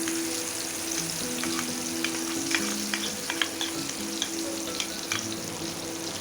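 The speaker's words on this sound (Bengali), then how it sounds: "যে মশলাটা পেস্ট করে রেখেছিলাম সেই মশলাটা তেলের মধ্যে দিয়ে দিলাম।" Spice paste frying in hot oil for a chicken roast, a steady close sizzle with scattered spits and pops and some stirring, over a faint background hum.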